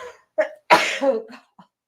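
A single sharp sneeze from a woman during a stained glass question-and-answer livestream, preceded by a short breathy intake and trailing off into a brief vocal sound, close and fairly loud.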